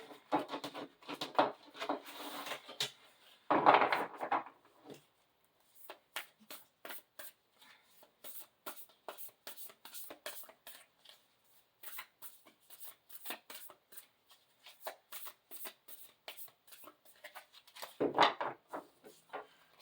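Tarot cards are shuffled again and again in quick papery riffles, with a few louder bursts of handling and shorter pauses between them.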